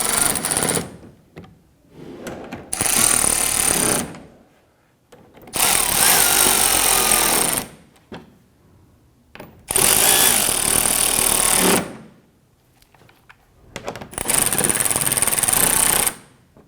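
A power tool on a Toyota Camry bumper runs in four long bursts of about two seconds each, loud and close, with short pauses between them as it snugs down the bigger bolts.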